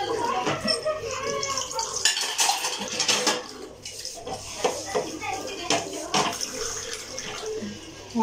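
Dishes and cutlery clatter and clink repeatedly while being washed in a kitchen sink after lunch, with running water in the background and a voice talking over it.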